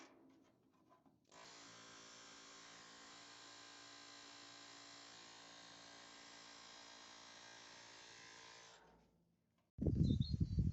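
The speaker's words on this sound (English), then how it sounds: "More welding." Welding patches onto a Mini car body during an EV conversion: a steady, fairly loud crackling buzz runs unbroken for about seven seconds, then cuts out before a short, loud burst of noise right at the end.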